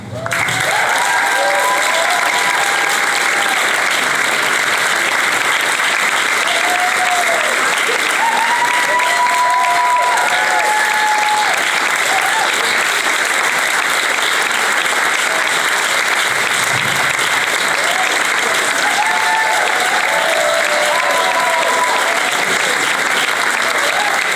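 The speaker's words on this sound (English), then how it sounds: "Let's give a round of applause for Vermont's youth winners" An audience applauding youth award winners at a Vermont awards event, steady loud clapping that fills the whole stretch without pause.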